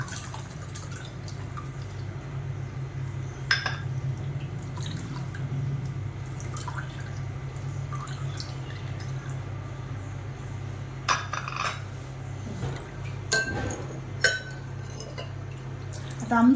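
Kokum liquid for sol kadhi is poured through a kitchen strainer, making soft dripping and trickling sounds with a few light clinks of utensils, fairly quiet and close.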